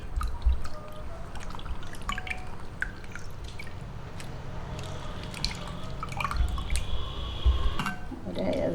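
Seeds washed in a container of water, giving soft dripping and splashing sounds with small pours and plops, fairly close, over a steady low background hum.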